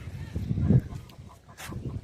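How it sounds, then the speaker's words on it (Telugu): Ducks in a zoo park in the UAE give a few nasal, honking quacks at close range over soft background chatter. "బాతులు"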